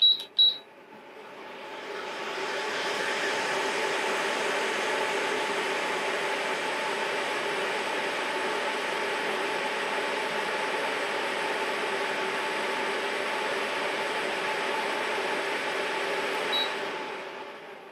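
Dayette air purifier fan running on turbo speed, a steady, fairly loud broadband whoosh that starts after a couple of beeps and holds evenly for about fifteen seconds before winding down.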